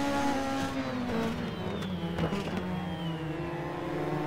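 Formula race car engines screaming around the tight Pau street circuit, a loud, steady high-pitched whine with pitch sliding as cars brake and accelerate, near and continuous with no talk.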